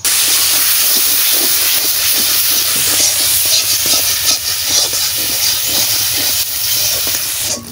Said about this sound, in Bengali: মশলা ভালো করে ভাজা হয়ে গেছে